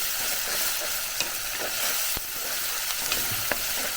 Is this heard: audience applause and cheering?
no